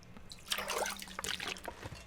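Water being collected in The Long Dark, a short close liquid trickle and splash lasting a couple of seconds at moderate volume.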